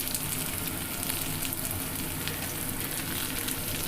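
Onion, tomato and garlic fry in a pan, giving a steady, close hiss of sizzling oil that fills the moment with no pauses and no voices.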